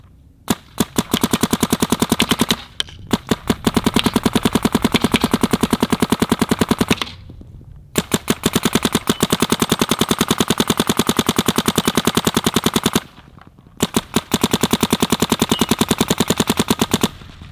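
A Planet Eclipse Geo R5 paintball marker firing long rapid strings of shots, sharp dense cracking bursts lasting several seconds each, separated by brief pauses, loud and close.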